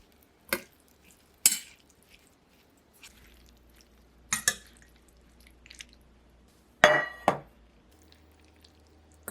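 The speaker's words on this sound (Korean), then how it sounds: "후추 뿌려 잘 섞어주세요" A spoon clinks sparsely against a bowl while perilla powder, perilla oil and pepper are mixed, with a handful of separate close taps over a quiet background.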